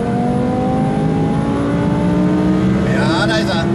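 A car engine revs hard and loud, close up, while gears are shifted. The pitch climbs steadily, then dips and rises again at the change, over constant road and engine roar.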